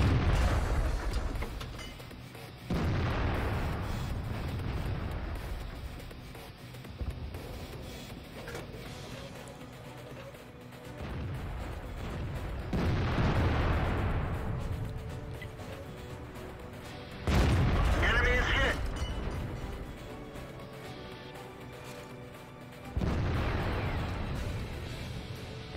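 Tank cannon fire in World of Tanks lands as several heavy booming shots spaced several seconds apart, each a loud low blast that decays into a rumble over a quieter mechanical background.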